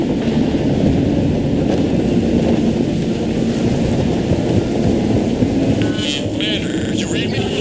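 Storm in Mass Effect 3 with constant low rumbling wind and rain noise, a dense steady roar filling the background, with faint higher crackles near the end.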